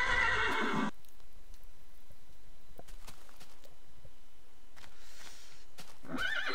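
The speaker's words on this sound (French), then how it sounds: "Ah, petit poney. Petit poney." In Minecraft, a pony gives two loud whinnies, one at the start and one at the end, with soft hoof clicks and ticks faintly audible between them.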